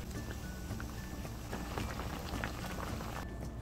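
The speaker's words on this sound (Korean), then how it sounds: "불이 이렇게 팔팔 끓기 시작하면 천일염 2분의 1스푼을 넣어줄게요" A pot of water at a rolling boil for blanching pumpkin leaves and stems, a dense steady bubbling and gurgling, close and moderately quiet, with no talk.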